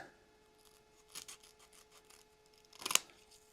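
Scissors snip through a Velcro strip while a guitar pedal board is being built, giving two close, crisp cutting sounds, a lighter snip followed by a louder one, over quiet background hum and no voices.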